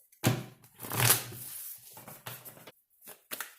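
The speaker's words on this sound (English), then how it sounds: "One more shuffle." Tarot cards riffle and slap together in a few quick bursts of shuffling, close and crisp, with short pauses between them and no talking.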